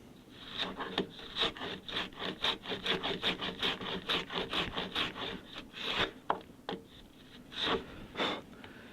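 A rabbet plane shaving along a wooden board in a quick series of rhythmic rasping strokes, close and steady, with a few slower strokes toward the end.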